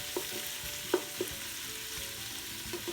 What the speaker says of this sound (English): We're heating up the oil, and now we're cooking up the meat.